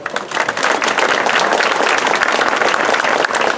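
Sustained applause from a gathered crowd at a residential club's Christmas novena in Ibagué, honoring the security guards, with dense continuous clapping that holds steady for several seconds.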